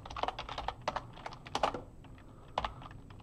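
Rapid, uneven keystrokes on a computer keyboard while coding a test for a NestJS e-commerce app, loud and close, with short bursts and pauses and no talking.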